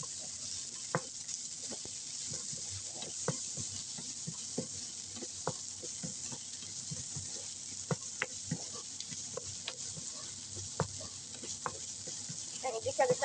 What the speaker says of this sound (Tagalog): igisa natin yung bawang at sibuyas